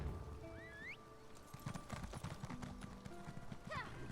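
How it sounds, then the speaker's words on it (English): A horse waits in a town in The Elder Scrolls Online. Hooves clip-clop and shift on hard ground, and short whinny-like calls rise above a busy game soundscape of tonal chimes and ambient layers. "Horse awaits its master."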